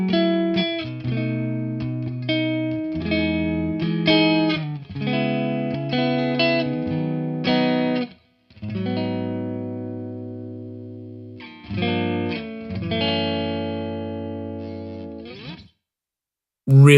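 Clean, chiming chords and arpeggios from a Kiesel guitar through a HyperRig, spread wide with chorus and reverb effects, ringing phrases separated by brief pauses, then an abrupt loud burst at the end.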